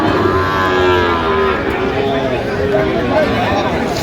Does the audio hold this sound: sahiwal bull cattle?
yes